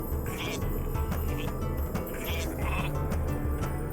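Sheep bleat a few times in the strategy game Northgard, short wavering calls over a low game background with a voice talking underneath.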